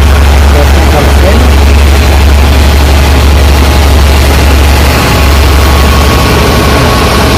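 A Toyota Corolla KE-30 engine is held at raised revs of about 2000 RPM while the air conditioning is refrigerant-charged, giving a loud, steady, low droning hum throughout.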